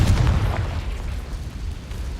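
A Confringo fire-blast spell explodes in Hogwarts Legacy with a heavy, rumbling boom that starts loud and near, then rolls on as a sustained low roar that slowly eases off.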